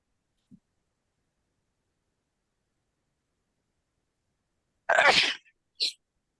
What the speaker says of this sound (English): I'm gonna sneeze in a minute.